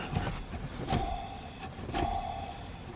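An old blower motor from a 2005-2014 Mustang GT, held loose after removal, whirring with a rising and falling whine in two surges and faint rattling and clicks, heard close up with no speech.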